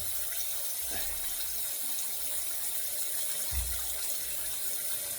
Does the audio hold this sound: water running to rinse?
yes